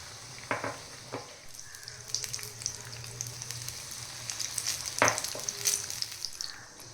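Chilli and potato bhaji frying in hot oil give a continuous crackling sizzle, with a few louder pops and spatters as pieces go in. No one talks.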